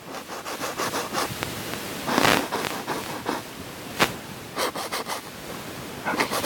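A dry paintbrush scrubs hard across canvas in short, uneven rasping strokes, a scratchy rubbing that swells and fades with each pass, fairly close and alone.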